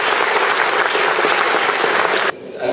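Loud, dense crowd applause at a French cantonal election victory rally in Neuilly continues steadily for about two seconds, then cuts off abruptly and leaves quieter room sound.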